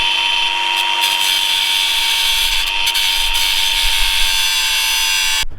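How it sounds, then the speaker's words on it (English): An angle grinder cuts off a rivet on a motorbike O-ring chain on an enduro bike, a loud, steady, high-pitched grind that continues without a break for several seconds and then stops abruptly. "all we need to do now is grind that off"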